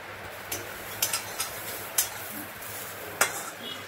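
Sparse scraping and light clinks of a spatula stirring drained lentils dry-roasting in a wok, quiet and close, with soft pauses between strokes.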